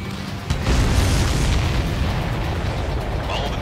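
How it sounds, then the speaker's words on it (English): Missiles explode in Ace Combat 7 aerial combat, a sudden deep boom followed by a long rumbling roar that fades slowly, loud and close. "All of the missiles have been destroyed."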